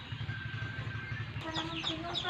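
Pet bato-bato doves coo and call softly at a distance, a repeated low pulsing over steady background noise, joined later by brighter chirps.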